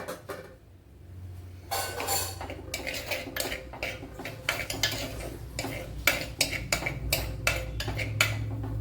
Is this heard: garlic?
yes